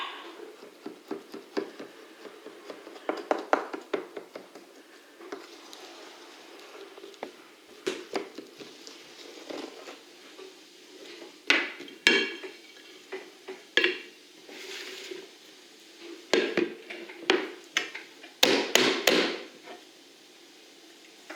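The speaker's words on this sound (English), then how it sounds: "All right, so now we're going to invert and flip the flan." Clinks and knocks of a flan pan and plate as homemade flan is inverted and flipped out, a scattered series of close clattering hits of varying loudness, quiet between bursts.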